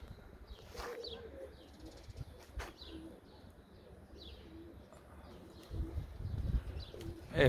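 Domestic tumbler pigeons in a flock fly low overhead, with soft repeated coos and brief bursts of flapping wings over steady outdoor background noise, growing a little louder toward the end.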